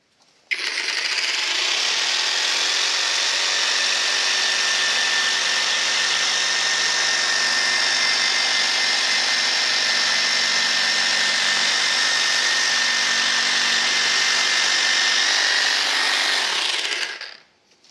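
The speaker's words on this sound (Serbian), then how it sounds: "Da probamo neko krivolinijsko sečenje." A Parkside Performance PSSPA 20 Li E3 cordless jigsaw with a coarse wood blade, no pendulum action, saws a curved line through particleboard, a steady, loud, close motor whine with rattling blade buzz running unbroken for about sixteen seconds.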